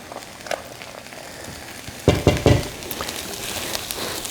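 Mushrooms and vegetables sauteing in a pan, with a soft steady sizzle under a cluster of louder scraping stirs midway, then a continued low frying hiss.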